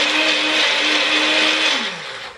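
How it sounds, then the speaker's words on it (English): A countertop blender runs loudly at a steady whine for about two seconds, then spins down as it is switched off, with no one talking. "This blender is loud."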